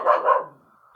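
A dog barks twice in quick succession, close and fairly loud, the second bark trailing off into a brief whine.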